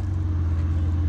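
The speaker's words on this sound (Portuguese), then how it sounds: "Tá parecendo o barulho do carro do prefeito." A car engine approaches as a steady low rumble, fairly loud and continuous with a mid-pitched engine drone, heard alone without talk.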